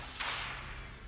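A Levioso spell cast in Hogwarts Legacy, heard as a single airy whoosh that swells and fades over about half a second, close, over a steady low background hum.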